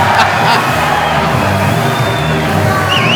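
Boxing arena crowd at a Golden Boy fight in Puerto Rico, a loud continuous roar of cheering and whooping with scattered shouts throughout.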